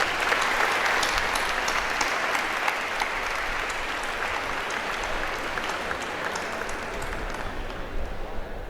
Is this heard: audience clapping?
yes